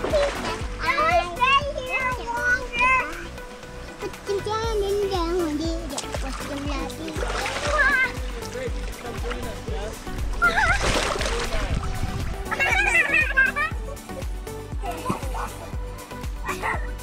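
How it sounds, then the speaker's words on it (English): Children splash and play in stream water in Pine Creek Canyon, Zion National Park, with steady sloshing and splatter under excited kids' voices and chatter throughout. "the kids were delighted to be able to play in the water"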